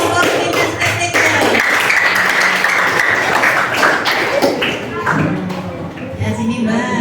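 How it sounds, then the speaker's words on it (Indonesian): A classroom or workshop audience claps for a small presenting group, a loud, close patter of many hands mixed with voices and chatter, tapering off toward the end. "tepuk tangan dulu untuk kelompok komunitas estetika"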